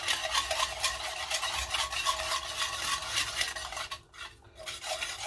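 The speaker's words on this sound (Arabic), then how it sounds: "Alors on rajoute un verre de l'huile tout en mélangeant toujours." A spoon scrapes and swishes steadily around a bowl as oil is mixed into a Moroccan coconut cake batter, with close, continuous rubbing strokes and a brief pause near the end.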